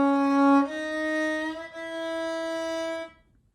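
Four bowed string notes play in a slow sequence, low D, high G, then D, each tone sustained and rich in harmonics, close and clear without talk.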